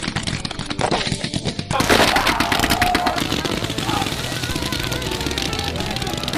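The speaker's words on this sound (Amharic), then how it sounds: "ዝም ብለን ነበር የሆነ ርችት የገዛ ነው።" Fireworks go off outdoors in rapid loud crackling bursts that continue without pause, with voices faintly mixed in.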